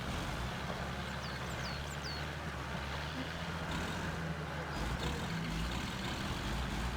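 A Jeep Wrangler engine in the Spintires game idles low and steady while rock crawling, a continuous rumbling drone with a faint high chirp early on and no talk.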